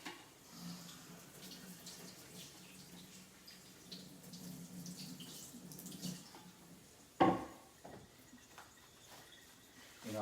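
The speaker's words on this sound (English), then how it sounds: "I washed my cutting board" Running tap water over a cutting board in a kitchen sink, a steady low wash of flowing water with small splashes, broken by one sharp knock about two-thirds through.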